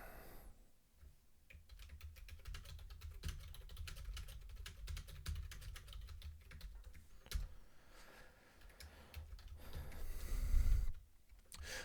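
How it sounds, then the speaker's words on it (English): Steady key clicks on a computer keyboard come in fast, uneven bursts close to the mic while data is typed into a spreadsheet. There are brief pauses and a muffled thump near the end. "let's type it in here"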